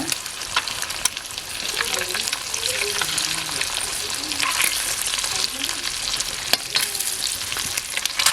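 Eggs sizzle in masala on a tawa over a wood-fired stove, a steady close frying hiss with brief scraping stirs and small pops throughout, no talk.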